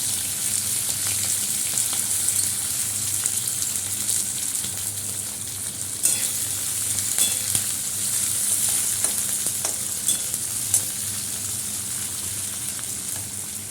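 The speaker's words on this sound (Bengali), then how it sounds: "একটু শুকনো লঙ্কা ফোড়ন দিয়ে দিলাম, মটরশুঁটি আর আলুটা দিয়ে দিচ্ছি" Peas and potatoes dropped into hot oil tempered with dried red chilli, frying with a steady, loud crackling sizzle and occasional stirring clicks throughout, close and without speech.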